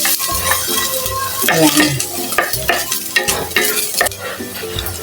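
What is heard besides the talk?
sautéing ginger in a pan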